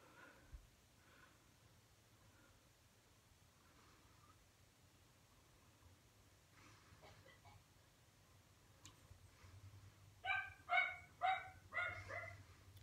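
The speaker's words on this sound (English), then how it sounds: "Sorry if you can hear my dogs barking, they bark all the time." A dog barks in a quick cluster of four or five sharp barks near the end, after a long stretch of quiet room noise with a faint low hum.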